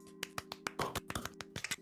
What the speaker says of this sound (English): Are you clapping for yourself?